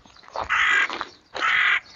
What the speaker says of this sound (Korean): 여기도 다, 아이네, 저놈 까마귀.